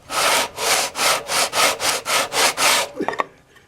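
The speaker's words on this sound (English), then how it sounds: "But it is a good solid flat surface to sand against." Steady rhythmic rasping of a wooden bow part being sanded by hand against the flat surface of a switched-off belt sander, about ten even back-and-forth strokes, close and loud, ending with a few clatters.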